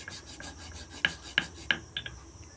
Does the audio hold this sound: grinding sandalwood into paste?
yes